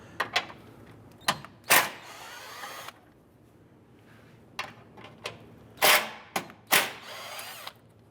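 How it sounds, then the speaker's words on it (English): Power tool bursts, probably an impact driver or drill, backing out two 10mm bolts from the top of the grille on a 2011-2017 Honda Odyssey. Several short close whirring bursts come with clicks and pauses between them. "Let's remove the 2 10mm bolts holding the top portion of our grill."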